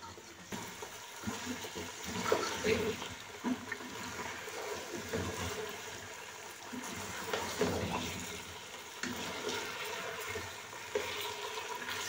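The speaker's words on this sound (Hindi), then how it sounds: "और चिकन के साथ हम इसे अच्छे से फ्राई करेंगे कलर चेंज होने तक।" Chicken, a kilogram of it, cooking for achar gosht as it fries and is stirred in a pan, a soft, steady background of sizzling with faint scraping.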